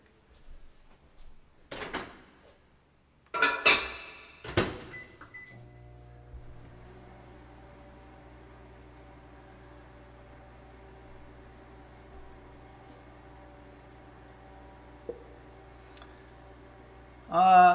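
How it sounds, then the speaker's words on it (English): Chocolate goes into a microwave oven: a few clunks of the door opening and shutting and button clicks, then the oven's steady low hum runs on, ending with a louder clunk or beep. "I'm going to put this in the microwave."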